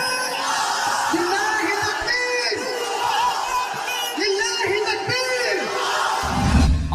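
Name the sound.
crowd shouting takbir (Allahu Akbar)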